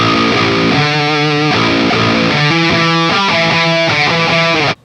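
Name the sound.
distorted electric guitar with humbucker pickup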